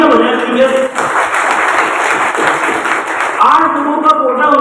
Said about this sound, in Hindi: इसके लिए सब तालियां बजाएं